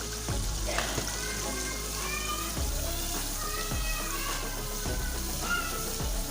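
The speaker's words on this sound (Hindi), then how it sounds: "1 टेबलस्पून में भर के इसके अंदर खुश्क धनिया पाउडर ऐड करूँगी और इस 2 से 3 मिनट तक इसकी अच्छे से भुनाई कर लें" Kofta masala with dry coriander powder roasting in a pan, a steady close sizzle with periodic scraping stirs across the whole stretch, no talking.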